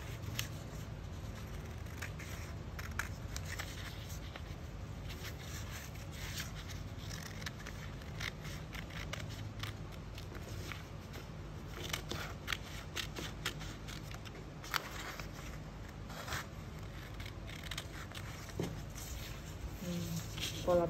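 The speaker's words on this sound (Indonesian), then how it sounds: "Lalu ini polanya kita gunting." Scissors cutting a paper sewing pattern, a continuous soft rustle with repeated snips and crinkling throughout, fairly faint and close, with a voice speaking quietly at times.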